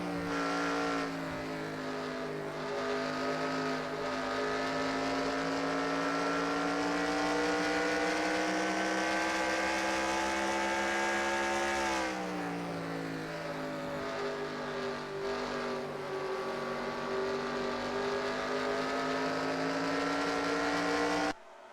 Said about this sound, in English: you could hear from that angle how Karina was taking the corners there and approaching them with the throttle and braking